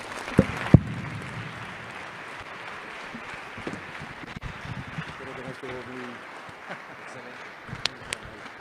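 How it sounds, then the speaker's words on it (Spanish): Applause after a lecture at a conference, sparse and uneven, with scattered claps and a few sharp close hits over room noise and some talking. "Un aplauso,"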